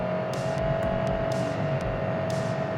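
A 2022 Perodua Myvi's engine hums in power mode, a steady close drone with faint bursts of road or tyre noise as the car picks up speed.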